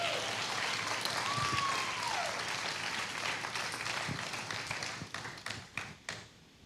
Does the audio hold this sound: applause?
yes